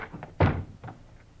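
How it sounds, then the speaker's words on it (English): Sound effect from an old FBI radio crime drama: a door rushed open in one heavy wooden thunk with a short rattle, up close and isolated. "in a quick movement, they rushed the door to Frank Hadley"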